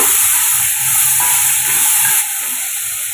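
Green beans fry in hot oil, a loud, close, continuous sizzling hiss with a steady high-pitched edge and slight dips as they are stirred.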